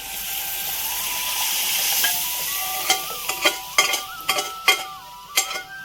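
Soya chunks dropped into hot oil in a pan: a steady loud sizzle and hiss, followed by a series of sharp clinks and scrapes as the chunks are stirred with a utensil.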